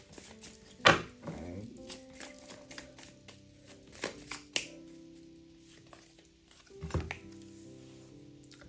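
A tarot card deck is shuffled, giving soft riffles and light taps at irregular moments over quiet background music.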